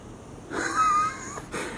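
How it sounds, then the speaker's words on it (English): A single snore from someone in a neighbouring apartment in Koper, Slovenia: one faint, muffled, breathy inhalation lasting under a second, with a softer rasp afterward, in an otherwise quiet space. "You can hear somebody snoring,"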